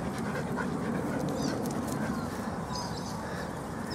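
Dogs play and pant at a dog park on a hot morning, with a continuous rough panting and rustling bed, faint bird chirps and soft whimpers scattered through.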